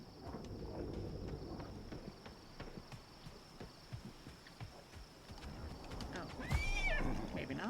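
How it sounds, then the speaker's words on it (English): A horse in the video game Palia clops along with soft, uneven hoof steps, then gives a loud, rising whinny near the end, under light background ambience. "Ooh, they have a pretty horse."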